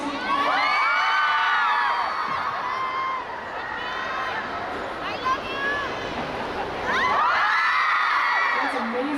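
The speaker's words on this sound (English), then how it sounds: "Yeah, I hear more screams." A crowd of fans screams, whoops and cheers at a public appearance for Hakken, a dense high-pitched roar that sags briefly midway and then surges again, with voices chattering throughout.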